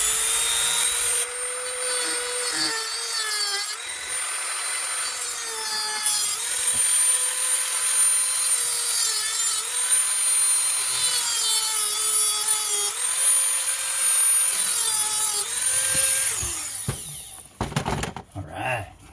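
A vintage Husqvarna 136 chainsaw with a plugged muffler and carburetor runs close by, its loud buzzing engine whine rising and falling through repeated revs before cutting off at the end.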